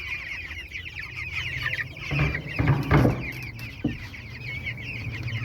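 Chickens cheep and cluck steadily at close range, with a few brief thumps partway through.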